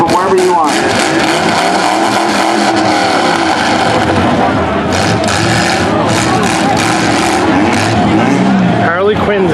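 Demolition derby cars idle and rumble as they parade in a circle before the event, a loud continuous mix of engines with occasional revs, and an announcer's voice comes over the noise.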